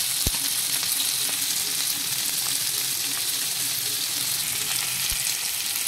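Coconut pieces and whole garam masala frying in a pan for chamgada pulusu, a loud, dense, continuous sizzle with a few faint knocks and stirs, no talking.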